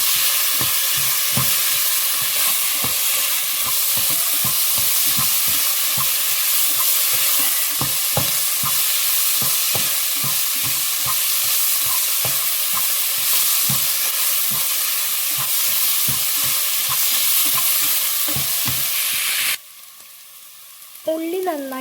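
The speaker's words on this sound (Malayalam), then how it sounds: "അതിലേക്ക് നമുക്ക് ഇഞ്ചി, വെളുത്തുള്ളി, അതുപോലെ പച്ചമുളക് അരച്ചത് ചേർക്കാം. ഇനി ഇത് നന്നായിട്ട് അത് വഴറ്റുക." Onion with ground ginger, garlic and green chilli paste sautéing in a pan for biryani, a loud continuous sizzle broken by rapid rhythmic spatula scrapes and stirs, close up, before cutting off near the end.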